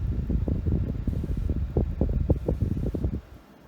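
A Winix 6300-2 air purifier fan running at its highest automatic setting, a soft, steady whoosh of moving air with faint rustling, quiet and close, dropping away near the end.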